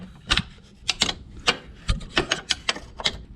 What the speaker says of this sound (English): The last one you'll have to get at with a little spanner